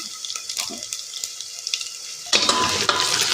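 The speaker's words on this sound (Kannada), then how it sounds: "ಎಲ್ಲವನ್ನು ಚೆನ್ನಾಗಿ ಫ್ರೈ ಮಾಡ್ಕೊಳ್ಳೋಣ." Bay leaf, star anise and marathi moggu frying in hot oil for vegetable masala rice, a soft crackle that swells into a loud, dense sizzle partway through, with no voices.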